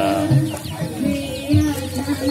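Broiler chickens cluck and squawk in short, irregular bursts at a tourist market in Bengkulu, close by and fairly loud against a busy market background.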